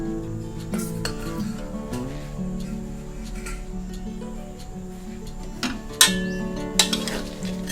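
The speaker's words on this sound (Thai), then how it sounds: "เอากากหมูที่เราพักไว้เมื่อกี้ ลงเจียวต่อได้เลยค่ะ" Pork cracklings fry in reused lard while being stirred, a steady low bubbling with scraping and clinks of a utensil against the pan, and a few sharper knocks near the end.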